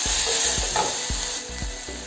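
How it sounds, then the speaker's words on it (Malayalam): Drumstick leaves and turmeric powder being sautéed in a pan, with a steady sizzle and a spatula scraping and knocking in a regular rhythm about every half second, close and fairly loud. "കുറച്ച് മഞ്ഞൾപ്പൊടിയും കൂടെ ചേർത്ത് കൊടുക്കാൻ പോവാണ്. ഇതൊന്ന് വഴറ്റിയെടുക്കാം."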